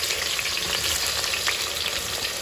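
Chopped onion hits hot oil for chicken biryani, giving a loud, steady, close sizzle that crackles evenly throughout with no voices.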